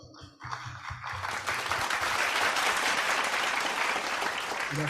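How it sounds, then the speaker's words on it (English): Applause from the audience at a partners' appreciation ceremony swells quickly into steady, dense clapping that carries on without talk. "Let us give him a round of applause."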